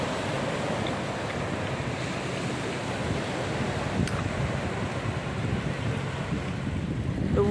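Strong wind on the beach at Nungwi, Zanzibar, a continuous roaring gust buffeting close up, with surf and the sea underneath.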